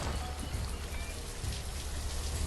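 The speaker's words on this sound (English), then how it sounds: "Working away in the rain." Steady rainfall in the city-building game Banished, a dense, even hiss of drops with a low rumbling undertone that runs unbroken throughout, with no voices.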